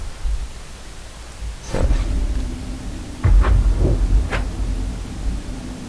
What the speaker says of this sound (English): there's thunder outside my house